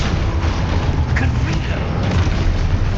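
A spell explosion from the Hogwarts Legacy video game gives a loud, rumbling boom with a dense, crackling burst that fills the whole moment, heavy low-end energy rolling under it.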